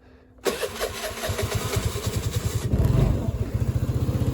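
A Vespa LX 125 scooter's small engine cranks and catches, then settles into a fast, even putter with a brief rev partway through, close by.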